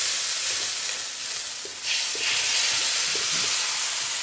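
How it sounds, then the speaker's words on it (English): Sauce sizzles loudly and steadily in a hot wok with stir-fried chicken and broccoli, a close, continuous hiss with faint stirring scrapes throughout. "Go ahead and put our sauce in."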